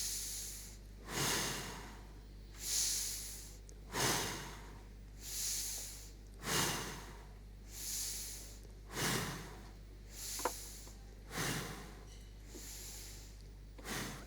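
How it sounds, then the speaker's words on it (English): Steady rhythmic breathing through the nose, about nine slow inhale-exhale cycles, each a soft airy whoosh rising and fading, close and quiet with no talk. "Now take 6 breaths through your nose."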